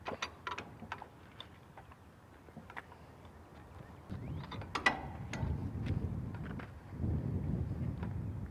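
Hydraulic struts lift a heavy load off a crushed vehicle during a stabilization operation, giving scattered metallic ratcheting clicks and clanks that build into a steady low mechanical rumble in the second half.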